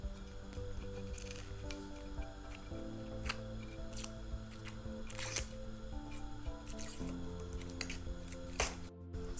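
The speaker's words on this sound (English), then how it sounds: "Make sure you have a sharp knife and you top and tail it." A sharp knife cuts the top and tail off an onion on a board. Several crisp slicing clicks and squishy cuts sound close and quiet against faint background music.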